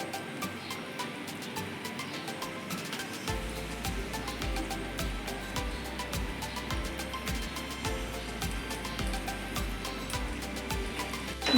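A jaggery and mango pickle mixture bubbles in a pot, making a continuous soft burbling with many small pops. It goes on steadily and close, with no talk.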